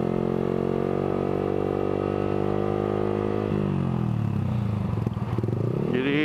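A Yamaha R15 V3 150 cc sport motorcycle fitted with a Villan exhaust and action wire on a test ride gives a loud, steady engine drone, then the pitch drops and climbs again as it shifts and revs up.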